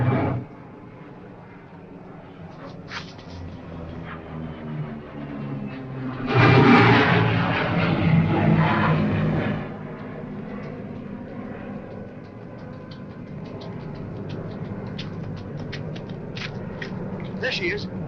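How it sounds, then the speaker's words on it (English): A 1940s propeller plane flies overhead coming in to land, its engine drone swelling loudly midway and then easing off, with people talking over it. "Holmes, he's coming in for a landing. The swine. That's a pickup plane."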